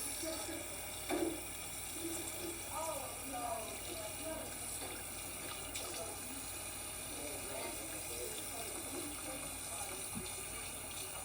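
Hands are rinsed under running tap water, a steady, close hiss of flowing water with faint splashing and small knocks, continuing evenly throughout.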